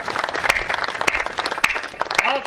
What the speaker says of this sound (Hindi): अब तालियां होनी चाहिए